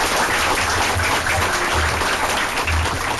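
Sustained applause from an audience at a township council meeting, a steady dense clatter of clapping hands filling the room without pause.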